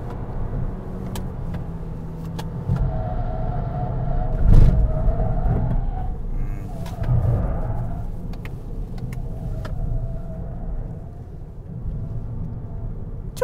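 A new Toyota Corolla Hatchback hybrid on the move, giving a steady low engine and road rumble from inside the cabin with a few heavier thumps and swells, and no talking.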